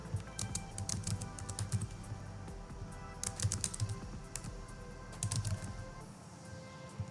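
Fingers tap on a computer keyboard while a new record is entered into an MS Access form, giving close, quiet bursts of rapid clicky keystrokes with short pauses between them.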